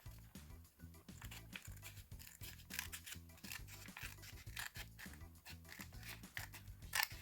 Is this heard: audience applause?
no